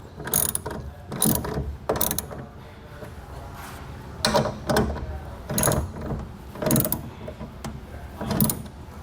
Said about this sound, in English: Using a 15mm socket, we're gonna go ahead and tighten down our second clamp.